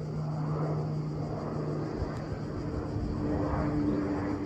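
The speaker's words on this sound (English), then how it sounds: "Oh, oh wow, airplane." An airplane passing overhead near a hilltop fortress in Montenegro, a steady low rumbling drone that continues throughout under outdoor wind noise.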